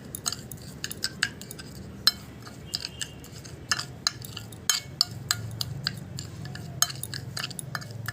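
A spoon clinks and scrapes against a bowl while sugar is stirred into a homemade foot-care mixture, with irregular sharp taps over a soft grinding stir, close and steady throughout.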